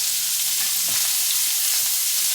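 Bacon and sausage frying on fairly high heat in a pan, a steady close sizzle and crackle with a few soft scrapes of stirring, no voices, continuous for a couple of seconds.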